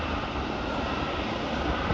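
Steady engine roar from a Qantas airliner taxiing at Melbourne airport, a broad continuous rumble heard from a moderate distance with no speech.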